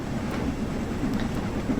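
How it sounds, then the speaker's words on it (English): A single steam locomotive labours up a hill, giving a loud, dense, continuous rumble and roar with no separate beats and no voices. "We are just one single locomotive."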